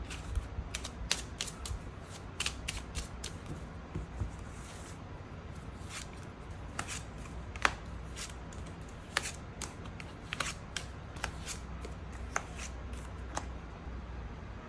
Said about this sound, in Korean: 그럼 3번 분들 추가 카드로 일별로 월요일부터 일요일까지 어떤 하루하루를 보내게 될지 추가 카드 뽑아보도록 하겠습니다